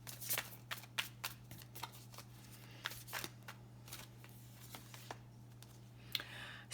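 Animal oracle cards are shuffled with a steady run of crisp riffling flicks and soft slides, close and clear over a low steady hum, with no talking.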